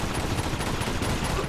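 Dense, continuous gunfire from the video game Uncharted 2: Among Thieves, a sustained barrage of overlapping shots filling the whole moment at steady loudness, with no speech over it.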